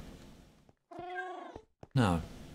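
Meows from Minecraft cats sound in quick succession, one long tonal call and a louder one at the end, near and fairly loud with a brief bit of background sound between them.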